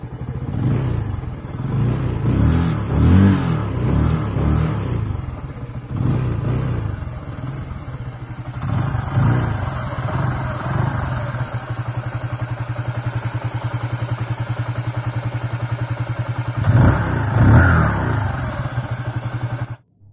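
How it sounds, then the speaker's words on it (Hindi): A 2018 Bajaj Pulsar 135 LS motorcycle engine idles steadily at close range, with a couple of throttle blips, some mechanical clatter and a continuous engine noise apart from the exhaust. No voices. "बाइक के एग्जॉस्ट के अलावा एक कंटिन्यूस आवाज़ आती रहती है बाइक के इंजन में से"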